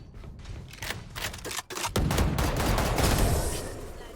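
Rapid gunfire bursts from a Valorant match, loud and close, with sharp repeated shots giving way to dense sustained firing and low thuds near the end.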